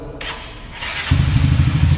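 A motorcycle fitted with a 190 engine kit starts up: the starter whirs briefly, then the engine catches and settles into a loud, close, rumbling idle.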